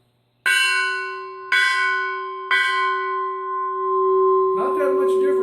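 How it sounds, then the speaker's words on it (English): Metal cylinder bells of different lengths are struck one after another, three loud, ringing strikes about a second apart. Each tone sustains and overlaps the next, and a softer, shimmering strike follows at the end. "The longer the bell, of course, the more difference it makes."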